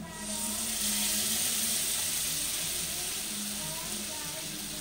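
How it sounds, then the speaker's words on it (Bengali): Spice batter and salt hit hot oil with already fried onions while cooking chhena bhujiya, giving a loud, steady, close sizzle that holds through the whole stretch. "পেঁয়াজগুলো ভাজা হয়ে গেছে, এবার ওর মধ্যে আমি যে মশলার ব্যাটারটা তৈরি করে রেখেছিলাম এটা আমি দিয়ে দিচ্ছি।"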